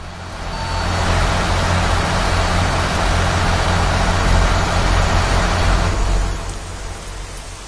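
A truck in a driving game strains to climb a mountain road, its engine a loud, steady low rumble and roar that holds for several seconds before easing off.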